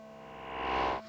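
A Stylophone-style synthesizer note run through a distortion effects unit, a buzzy harmonic tone that swells in loudness, then drops sharply near the end and continues at a lower level.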